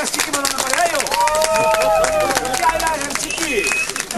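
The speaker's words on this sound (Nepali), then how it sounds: "जोरदार ताली र सिक्की बजाउनु पर्यो" An audience at an indigenous women's gathering in Nepal bursts into loud clapping, with sharp whistles sliding up and down over the crowd noise, continuous and close for the whole stretch.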